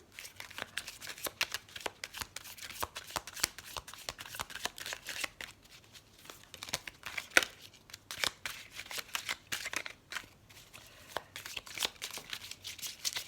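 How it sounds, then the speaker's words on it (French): Oracle cards are shuffled by hand in quick repeated riffles and flicks, close and crisp, with a few brief pauses between bursts and no talk. "On va tirer deux petites cartes comme d'habitude de ces deux oracles"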